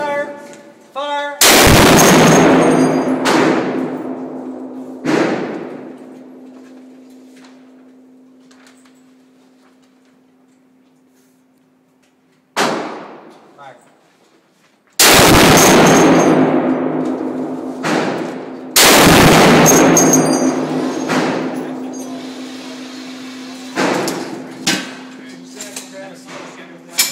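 A Barrett M82A1 rifle in .50 BMG fires a series of heavy, booming shots at close range, each blast followed by a long ringing decay, with brief shouts between them.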